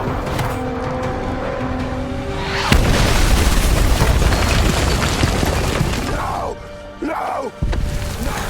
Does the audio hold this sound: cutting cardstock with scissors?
no